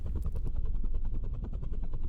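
A helicopter in an s&box game jam video game makes a rapid, steady rotor chop that pulses evenly and sounds close and fairly loud. It plays alone, with no talking.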